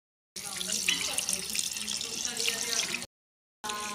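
A running tap pours steadily as mulberries are washed under it, a close continuous splashing stream that stops abruptly and then resumes briefly.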